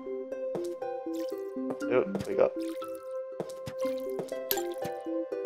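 A golden watering can pours water in Plants vs Zombies, producing a run of wet drips and squishy splashes amid bouncy game music, with someone talking briefly.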